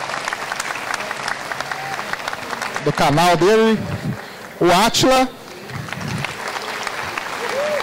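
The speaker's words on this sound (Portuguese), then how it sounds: "Palmas para ele." An audience at a Campus Party science panel applauds steadily, a wide wash of clapping beneath a presenter's amplified voice as guests are introduced on stage.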